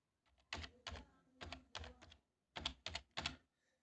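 A mobile phone number being typed on a computer keyboard, quick clusters of crisp key clicks in short bursts with brief pauses, close and fairly quiet.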